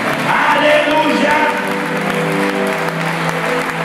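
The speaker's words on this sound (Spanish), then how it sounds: "Denle un fuerte aplauso a ese hombre de Dios, guerrero de Dios." A church congregation applauds a visiting pastor with loud, sustained clapping, mixed with cheers and shouted praise. The sound runs steady and dense for the whole stretch, with no pause.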